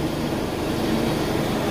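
A United Bravo car runs with its air conditioning on, giving a continuous loud low drone and hum with steady vibration throughout, no talk over it.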